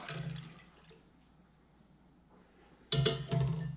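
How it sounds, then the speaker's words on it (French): Poached pear red wine syrup poured through a strainer, a soft liquid trickle fading to quiet, then a sudden louder splashing pour near the end. "Je vais filtrer le bouillon, enfin le sirop."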